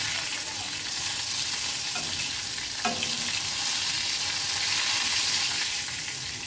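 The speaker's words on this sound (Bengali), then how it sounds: "মাছটা কিন্তু একটু কড়া করেই ভাজতে হবে।" Fish frying crisp in hot oil in a pan, a constant bright sizzle and crackle, close and steady, with a couple of soft scrapes and knocks as the pieces are turned; no talking.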